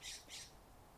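A pet bird squawks twice in quick succession, harsh and fairly faint, indoors over a low room hum.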